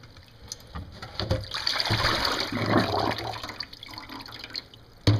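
Water sloshes and pours as a bowl of rinsed amaranth seeds has its water changed out, a soft, close splashing with a small knock near the end.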